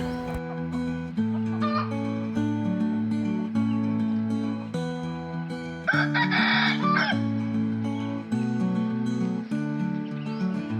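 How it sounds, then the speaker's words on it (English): A rooster crows once in the middle of a lively musical backing track, a loud, close, strained call over steady instrumental notes, with no speech. "A rooster."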